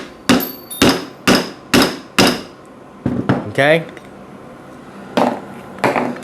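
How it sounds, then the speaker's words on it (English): Sharp metallic hammer strikes drive a bushing into a Kawasaki motorcycle fork, about five evenly spaced blows, a brief pause, then two more, close and loud, with a short spoken word in between. "you'll take your hammer and you'll drive your bushing in"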